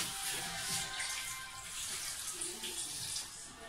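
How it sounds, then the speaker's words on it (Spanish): Water pours steadily in a continuous splashing stream into a pot for vegetable and chicken noodle soup, close by, with no voices. "Y vamos a ponerle un poquito de agua."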